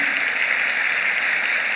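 Applause from a lecture audience at a science talk event, a smooth continuous wash of many hands clapping at steady moderate volume, with no speech over it.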